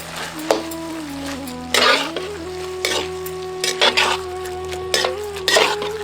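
A spoon scrapes and stirs through cauliflower in a sizzling pan, in several distinct strokes over a steady frying hiss and a low background hum.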